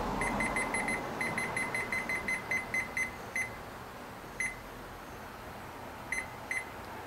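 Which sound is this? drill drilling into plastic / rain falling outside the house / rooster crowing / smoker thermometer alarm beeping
smoker thermometer alarm beeping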